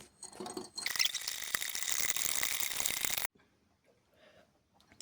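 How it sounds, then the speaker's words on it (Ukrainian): A dense, rapid clinking and scraping of a spoon stirring sugar into a glass of water, close up, then an abrupt stop followed by near silence. "тепер все перемішується"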